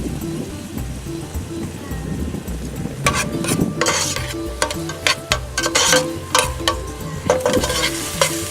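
Garlic, ginger, chilli and coriander stalks sizzle and get stirred in a pan for a chicken curry, a steady fry broken by sharp scraping stirs that grow busier in the second half.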